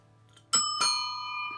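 A bicycle bell rings twice, two bright metallic dings about a quarter second apart, the second left to ring out and fade slowly, close and clear against a quiet background.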